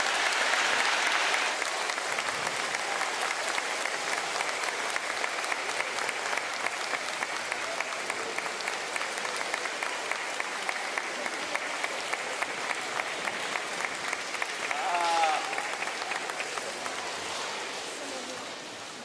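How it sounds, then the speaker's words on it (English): An audience applauds Indiana Governor Eric Holcomb at a statewide reading investment event, steady dense clapping filling the room for most of the stretch before thinning out near the end, with faint voices mixed underneath. "Let's give him a nice round of applause."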